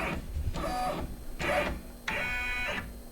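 An embroidery machine traces a design outline on a hooped sweatshirt, giving three steady, rhythmic whirring bursts of needle stitching about a second apart, close and moderately loud, with no talking.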